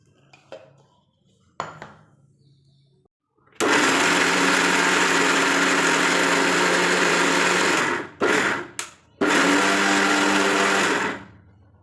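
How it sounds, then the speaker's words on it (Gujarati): After a few faint clinks, a kitchen mixer grinder whirs loudly and steadily as it crushes dried coconut, stops briefly twice near the end, then runs again before cutting off. "તો એકદમ થોડું ઝીણું કરવા માટે આપણે મિક્સરમાં ક્રશ કરી દઈશું।"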